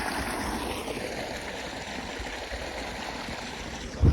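Steady rushing flow of water from a running farm pump motor, a continuous gurgling stream at close range with no talking.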